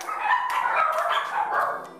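Several dogs yip and whine excitedly at close range, a busy overlapping tangle of high-pitched barks and whimpers.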